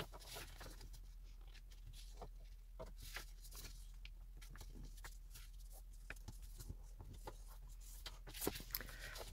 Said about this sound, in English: Fold almost in half lengthwise, giving enough room for the flap of the envelope.